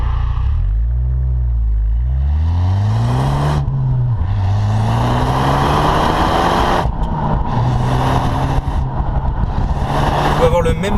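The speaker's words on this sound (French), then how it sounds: "Vous pouvez accélérer, il n'y a pas de problème, la voiture va répondre." A Ford Focus ST's 2-litre four-cylinder engine revs up repeatedly as it accelerates through several gears, loud and close, with a steady rising drone between shifts.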